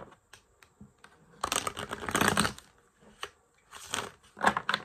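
Soft papery riffling in short bursts, then two louder flurries of tarot cards being shuffled, close up with no talking.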